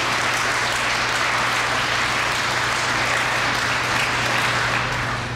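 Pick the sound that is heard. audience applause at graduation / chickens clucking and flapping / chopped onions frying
audience applause at graduation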